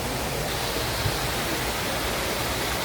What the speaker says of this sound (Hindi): ये यहाँ पे पानी बह रहा है